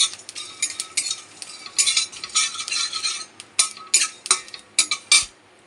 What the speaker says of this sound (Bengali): দেখো চটপট করে মশলাটা ফুটছে, না নাড়লে আবার তলাতে লেগে যায়